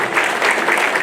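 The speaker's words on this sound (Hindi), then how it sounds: "एक बार जोरदार तालियां ब्रिगेडियर साहब" Loud, dense applause from an assembled crowd at a Yadav Mahasabha gathering for the Rezang La kalash yatra, honouring a brigadier, a steady unbroken wash of clapping for about a second.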